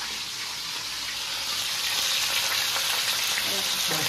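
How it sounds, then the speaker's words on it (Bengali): Fish heads fry in hot oil in a home kitchen pan, giving a loud, dense, continuous sizzle close by that holds steady throughout with no talking. "মাছের মাথাগুলো ভাজছি, বাঁধাকপিটা করবো।"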